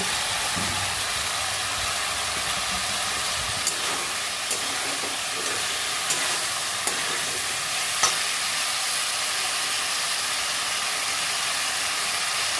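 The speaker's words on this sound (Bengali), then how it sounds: "মশলা কষা হয়ে গেছে ফুলকপিগুলো দিয়ে দিচ্ছি" Cauliflower florets stir-fry in a spiced masala, giving a loud, steady sizzle and hiss throughout with occasional soft clicks of a spatula against the pan.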